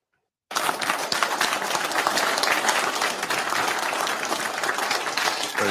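Sustained applause from an audience at a political meeting, steady and dense clapping that starts abruptly after a brief silence and holds at full strength throughout, with no speech over it.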